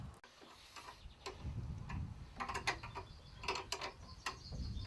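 Two nuts are tightened on a threaded rod joining an old hinge to a new one. Close, quiet metallic ticking and ratcheting clicks come in short irregular bursts as the wrench turns, with no talking.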